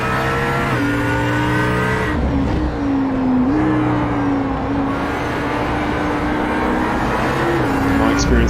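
A race car engine holds a high, steady drone on the Hungaroring circuit in iRacing, pitch dipping and climbing through gear changes and corners, loud and continuous while a commentator talks over it.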